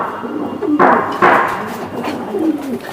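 Racing pigeon cooing close by in a few low, soft bursts, with louder rustling thumps partway through as the bird is handled.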